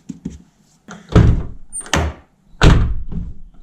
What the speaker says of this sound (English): I'm just going to tuck this back in and close the door